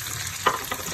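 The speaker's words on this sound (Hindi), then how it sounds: "इसको भूनते हैं।" Kadai paneer masala frying in a pan, a brief close sizzle with a steady hiss and one quick stirring scrape.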